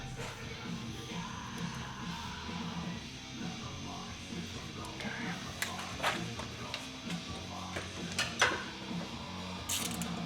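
Ratchet clicking as fittings on a CP4 injection pump are loosened on a Gehl RT210, repeated close mechanical clicks and ratchet pawl ticks in short bursts over a steady background, with sharper metallic snaps near the end.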